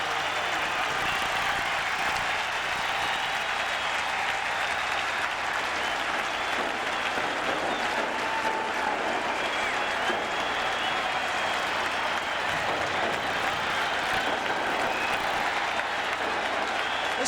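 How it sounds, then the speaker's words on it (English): A sustained standing ovation from a baseball crowd at Shea Stadium for Mark McGwire, a dense, roaring wash of cheering and clapping that holds steady throughout, with a commentator's voice faintly underneath. "listen to this ovation"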